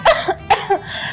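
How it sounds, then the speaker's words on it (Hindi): Two short, sharp coughs, close and loud, each followed by a smaller catch, with no talking. "मुझे खांसी हो रही है।"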